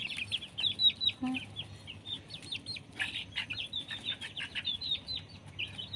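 Chickens cluck and chirp in short, scattered bursts over a quiet outdoor background, fairly faint and somewhat distant.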